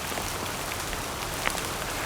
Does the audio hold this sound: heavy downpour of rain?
yes